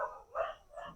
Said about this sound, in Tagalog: may mga aso na nagkakagulo din sa gilid ko at may dumaan lang na tao, nagkakagulo na